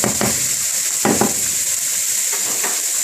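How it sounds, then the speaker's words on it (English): Onions frying in oil over high heat give a steady, loud sizzle across the whole stretch, with a few soft stirring scrapes of a utensil in the pan. "so the onions start caramelized."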